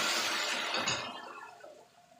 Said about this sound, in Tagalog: So, kumukulong na ito